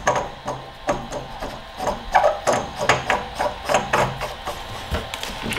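A filter being screwed into a Bauer Junior II diving and PCP air compressor, a run of close, regular metallic clicks and ratcheting taps, no talk.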